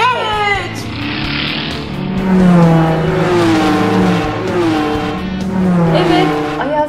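Toy cars racing in a children's play session, with a whirring, engine-like sound running steadily throughout, loud and close, under the constant chatter of voices.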